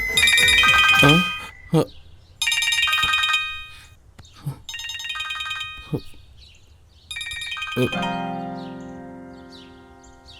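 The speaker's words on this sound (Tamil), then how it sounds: "இவன் எதுக்கு இப்போ ஃபோன் பண்ணுறான்" A mobile phone ringtone plays a bright melodic tune in repeated bursts with short pauses between them, fairly close and clear, in a Tamil dubbed horror film scene with brief speech between the rings.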